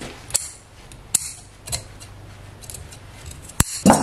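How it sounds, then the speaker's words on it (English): Scissors snipping upholstery fabric while reupholstering a couch, a few sharp separate cuts and clicks spaced out over a few seconds, close and fairly quiet. "So I know that if I cut a half inch away from there,"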